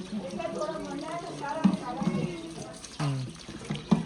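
Tap water running as a container is filled at home, a steady wash under a voice talking throughout.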